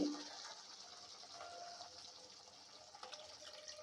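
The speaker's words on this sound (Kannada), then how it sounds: "ಇದಕ್ಕೆ ನಾವು ನೀರು ಹಾಕೊಳ್ರಿ ಅದ ಮಿಕ್ಸರ್ನಾಗ ನಾವು ರೀ ನೀರು ಹಾಕೊಳಕತ್ತಿದ್ದೀವಿ" Water is poured into a mixer jar holding roasted gravy for a quick gram-flour sambar, a steady soft splashing trickle that starts strongest and continues evenly and fairly faint, with no talking.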